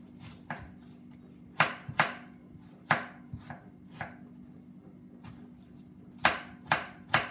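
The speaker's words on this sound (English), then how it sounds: "Chop the onion quite finely." Onion being chopped finely with a knife for spanakopita, sharp close thuds on a cutting board in uneven bursts of two or three strokes over a low steady hum, no voices.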